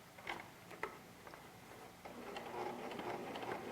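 A sewing machine stitches a fabric face mask, a faint, steady mechanical whir with a few light ticks at first, settling into an even, continuous run in the second half.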